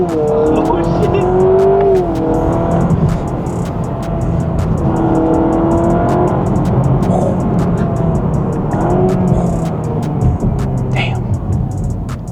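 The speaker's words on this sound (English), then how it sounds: "all engine sound fake" Synthetic engine sound from a lowered 2026 Honda Prelude on springs and spacers, a steady droning tone that rises and falls as the car drives, close and loud, with people talking over it throughout.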